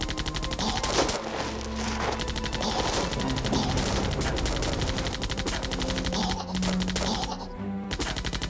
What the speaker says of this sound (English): This is where heavy machine gun fire really comes in handy